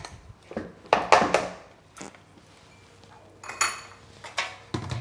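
A spatula works cream cheese chocolate cake batter around a bowl, making scattered scrapes and knocks against the bowl with quiet pauses between them.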